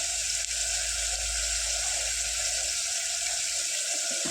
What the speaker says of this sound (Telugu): అల్లం వెల్లుల్లి పేస్ట్ పచ్చివాసన పోయేంత వరకు చక్కగా ఇందులో ఫ్రై చేసుకోవాలి